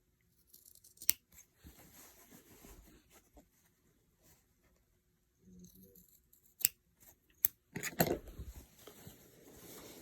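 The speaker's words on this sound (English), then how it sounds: "And then I'll cut these lines." Scissors snip lines into a paper flute mask in short, quiet bursts of cutting with sharp clicks and pauses between, close and faint in an otherwise silent room.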